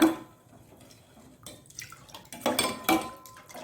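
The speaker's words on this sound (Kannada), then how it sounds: "ಒಳ್ಳೆ ನೀರು ಹಾಕಿ ಇದನ್ನು ಒಳ್ಳೆ ನೀರು ಮಾಡಿಕೊಳ್ಳೋಣ" Water splashes and trickles into a metal pot of tur dal for temple-style saaru, with clinks of the vessel and irregular bursts of pouring, fairly close.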